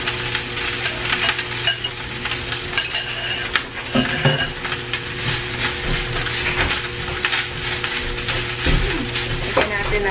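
Leftover rice goes into a hot pan for baked cheesy macaroni and is stirred, with steady sizzling and frying, scraping of a utensil and light clinks against the pan throughout.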